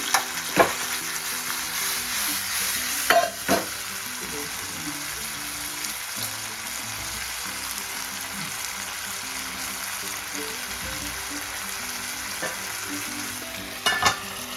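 Taarli sardines coated and frying on turmeric leaves in a pan give a loud, steady hiss and crackle, with a few clattering knocks near the start and end.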